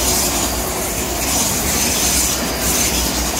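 A train rolls past near a seawall lane, its steady loud rumble and wheel noise filling the whole stretch with no talking.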